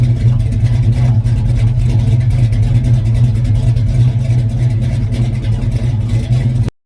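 Dodge 426 Hemi muscle car engine with a deep, loud, steady throbbing rumble held close for several seconds before cutting off abruptly.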